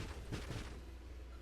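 Muffled bursts of explosions from the space shooter game Nova Drift thump in a quick cluster, then fade into a low, steady rumble of game audio.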